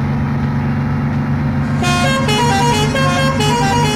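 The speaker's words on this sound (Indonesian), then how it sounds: "di sini juga ada yang baru cuy, yaitu di klaksonnya" A new car horn in the Bus Simulator Indonesia game, version 4.0, sounds over a steady low engine drone and starts about halfway through as a loud, sustained multi-tone honk that changes pitch in steps.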